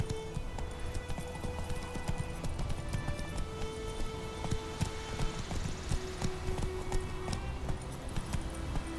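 Geralt's horse Roach gallops in The Witcher 3, hooves beating in a steady rapid clip-clop rhythm close by, loud and continuous over game music and ambience.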